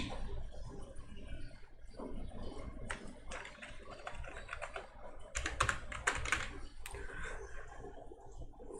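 Fingers tap steadily on a computer keyboard, typing unset statements in code. The clicks are soft, quick and irregular, with a few denser flurries, heard alone at low level.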